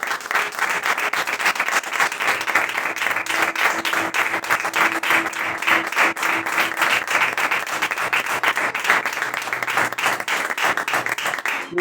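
A church congregation applauds in sustained, dense clapping for about twelve seconds, loud and steady throughout, with a faint voice or tone lingering underneath.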